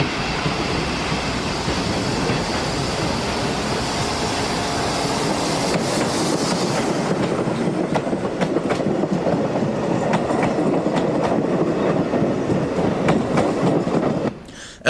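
A French-built 1200 class diesel train in Portugal rumbles past loudly with rhythmic clickety-clack of wheels over rail joints, the roar easing partway through before cutting off abruptly at the end.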